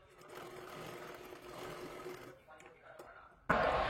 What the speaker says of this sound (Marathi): त्याला पूर्ण व्यवस्थित शिलाई मारून घ्यायची आहे.